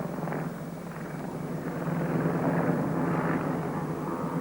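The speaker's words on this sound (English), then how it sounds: "the Western Lynx became the first helicopter to roll at Farnborough" A Westland Lynx helicopter with two Rolls-Royce Gem engines performs a flying display at the Farnborough airshow, giving a steady, distant, rumbling engine roar that swells slightly midway, with no talk.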